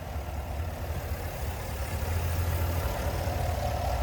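The 6.2 liter naturally aspirated V8 of a 2023 Chevrolet Tahoe RST Performance Edition idles steadily with a low, even rumble and hum, heard close and alone without speech.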